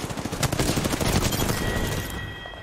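Rapid, dense gunfire from the battle royale video game Apex Legends, loud and continuous through the clip before tapering off, with no talk over it.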